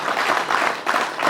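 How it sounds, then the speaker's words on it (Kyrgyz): An audience at a corporate party bursts into dense, steady applause, many hands clapping together close and loud throughout the short stretch. "Салим апабызга бир кол чаап коюңуздар."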